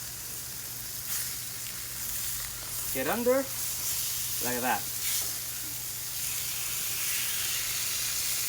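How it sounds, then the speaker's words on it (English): Food sizzles on a thick metal griddle alongside grilled vegetables, duck breast and picanha, a soft steady hiss under a man's brief speech. "You hear the sizzling."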